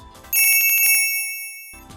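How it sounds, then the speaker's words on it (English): A bright, high-pitched electronic ring jingle, rapid repeated chimes that ring out and fade: a higher-pitched version of Sonic the Hedgehog's ring-loss sound effect. "a higher-pitched version of Sonic losing his rings"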